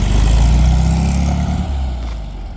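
Restored car driven off, engine droning loud and close with a rough, throbbing low rumble that gradually eases and recedes over a couple of seconds; no speech.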